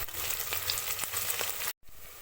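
Sliced onions fry in a pan until just pink, giving an even, close sizzle with faint stirring ticks that cuts out briefly near the end.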